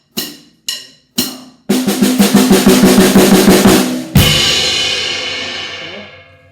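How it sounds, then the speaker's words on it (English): Snare drum on a drum set, with no kick: three sharp separate hits, then a fast even run of strokes, closing on a loud accented crash that rings out and decays, all close and alone. "Now the third variation is just a good old snare."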